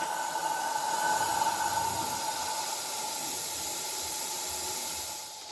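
Safety valve on a steam locomotive blowing off during an annual steam test, a steady loud hiss of escaping steam held unbroken for several seconds before easing off slightly at the end.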